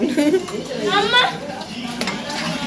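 Ingredients with tomato are stirred in a pot, a spoon scraping and clinking against the metal in short close strokes, while a person talks over it.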